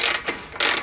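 A 1/2-inch drive ratchet tightens the swingarm pivot bolt on a 2014 Suzuki GSX-R 750: two quick, close clicking bursts separated by a short pause.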